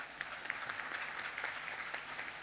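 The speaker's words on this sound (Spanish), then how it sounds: "Un fuerte aplauso para Juan Pablo" An audience at a health-sector recycling seminar claps for a speaker, a lively stream of sharp individual hand claps at steady strength, close and clear, with no talk over it.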